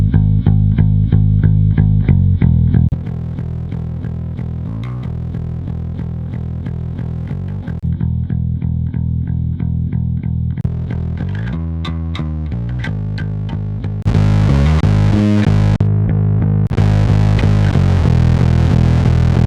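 Electric bass guitar playing alone, with low riffs that shift through several tones, some clean and some heavily distorted and fuzzy, loud throughout.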